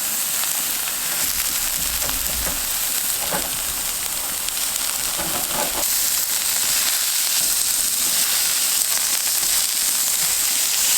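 Hash browns fry in a pan outdoors in the woods as part of a mountain man breakfast, giving a steady close sizzle and crackle that runs throughout with no talk.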